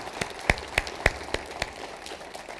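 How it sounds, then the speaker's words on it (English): A small group claps at a university statue dedication and convocation center opening, with a few sharp, separate claps standing out over light, scattered clapping at moderate volume. "let's give them all a round of applause"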